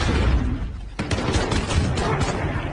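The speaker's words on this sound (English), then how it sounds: "Throwing grenade!" Video game grenade going off with a sharp burst, followed by a rattling spray of gunfire-like crackles and rumbling that keep going for a couple of seconds.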